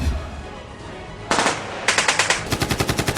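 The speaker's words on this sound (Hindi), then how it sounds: "उन्होंने उसको बड़ी नज़दीक से इसमें फायर किया" Close-range gunfire starts after a quiet stretch: sharp bursts crack out, then a rapid string of loud, evenly spaced automatic shots follows.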